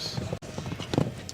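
Horse hooves strike the ground in quick, steady clip-clop beats during a show jumping round at an FEI 5* Gold Cup competition. The hoofbeats sound moderately close, and faint voices sit in the background.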